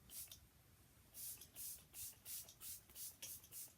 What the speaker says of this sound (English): So I'm going to spray a little bit of this